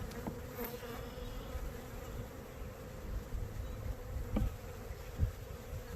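A close, continuous drone of honey bees buzzing around an open hive during an inspection, with a few individual bees sweeping past louder now and then.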